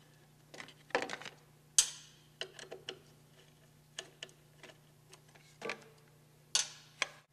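Cover bolts on an MVs10 being loosened with an Allen key, a series of small sharp metallic ticks and clicks in irregular bursts, close and fairly quiet, no talking.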